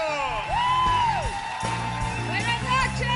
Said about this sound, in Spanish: el segundo aplauso es para Jessica Carrillo